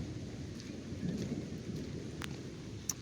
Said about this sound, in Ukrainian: знову починається, бачу, дощ